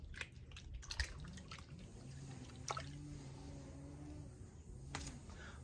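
Aloe vera leaves are squashed by hand and worked into a container of water, giving close, soft squelching and wet dripping sounds with intermittent splashy pops.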